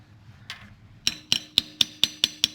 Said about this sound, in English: use that to just gently tap this new seal in place